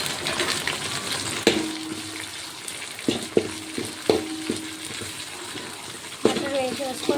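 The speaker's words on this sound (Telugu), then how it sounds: "ఇక్కడ నేను ఒక క్యూబ్ బటర్ వేసుకుంటున్నా." A cube of butter melts in a pan for fried chicken biryani, giving a soft steady sizzle with a few sharp clanks of utensil against the pan, close and moderate, with no voices.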